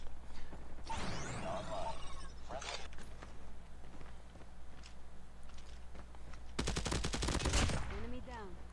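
Gunfire in a ranked shooter video game using a Damascus Hades: bursts of rapid automatic shots, an early burst and a louder dense volley near the end, mixed with footsteps and game sounds under occasional talk.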